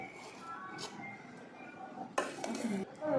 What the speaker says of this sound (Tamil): இந்த மாதிரி நல்லா கிளறிக்கோங்க.